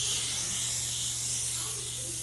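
A steady, close hiss of an olive oil aerosol spray can runs continuously for a couple of seconds, with a low hum beneath it.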